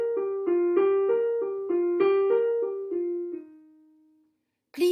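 A pitched instrument repeats a short fragment of a musical phrase several times in quick, even notes, ending on a held tone that fades into a brief silence.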